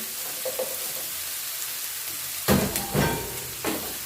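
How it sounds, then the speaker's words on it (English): Onion and green onion hitting a hot pan and sautéing, starting mid-clip with a loud burst of sizzle followed by more sizzling surges as the pan is stirred, close and with no talking. "we're going to be sauteing this pretty quickly"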